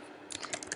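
A few quick keystrokes on a computer keyboard follow a moment of quiet, giving a short burst of soft, close clicks.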